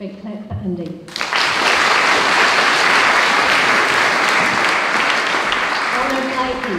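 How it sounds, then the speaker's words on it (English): An audience at a junior school prize giving bursts into loud, sustained applause for a pupil, beginning abruptly after a brief moment of speech and continuing steadily, thinning slightly near the end as a voice resumes. "Big clap for Indy."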